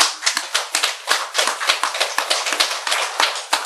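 An audience claps in a quick, uneven flurry of sharp, close hand strikes that keep going steadily to the end, with no one speaking over it.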